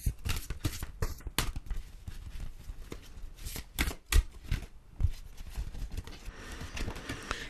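Oracle cards shuffled by hand at close range, a run of quick papery riffles and soft slaps in an uneven rhythm, alone without talk.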